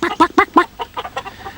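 Broody hens on their nest boxes squawk in alarm, a rapid burst of loud, close clucks that fades into softer, quicker cackles.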